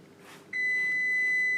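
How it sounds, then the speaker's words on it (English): A kitchen oven chimes once it finishes preheating for homemade pizza, sounding as a single sustained electronic tone close by that starts partway through and holds steady to the end, after a quieter stretch of room noise. "Well, sounds like our oven is ready, which is perfect timing"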